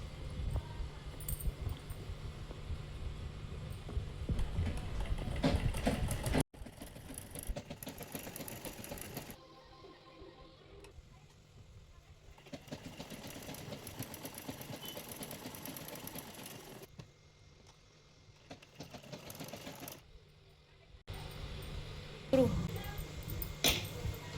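Sewing machine stitching a blouse made from leftover fabric, running in several bursts of steady mechanical whirring with brief pauses and quieter stretches between seams.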